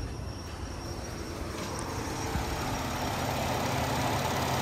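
A Ford 3.5 EcoBoost truck engine idles steadily after turbo coolant fitting repairs, a continuous low rumble with broadband hiss that holds even and close throughout.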